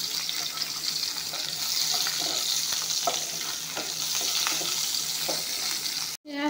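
Onion and bay leaves frying together in hot oil, giving a continuous close sizzle with light popping and occasional utensil taps, broken by a sudden brief dropout near the end.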